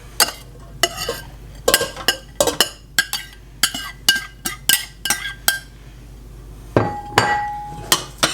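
A utensil stirs cooked hamburger into sauce in a pot, giving a run of sharp metallic clanks and knocks in an uneven rhythm, close and crisp, with a few ringing clinks near the end and no talking.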